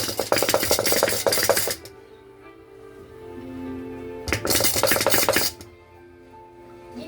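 Clattering metal cookware and dishes, including a rice pot, handled in two bursts of busy clinking with a quieter pause between, close by.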